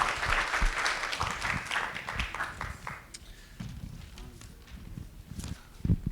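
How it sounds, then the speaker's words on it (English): Audience applause at a live sustainability session at the VIV Asia 2025 trade show, a spread of patter that is fairly loud at first, then thins and fades after a few seconds with low rumbling and a brief burst near the end. "join me for a big round of applause"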